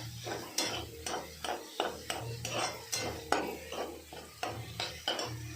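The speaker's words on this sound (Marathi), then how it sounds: "तर बोंबील टाकायचे, तर मिक्स करून घ्यायचं" Dried bombil fish being stirred into red masala in a pan, a spoon scraping and clinking against the metal in steady repeated strokes with a faint sizzle underneath.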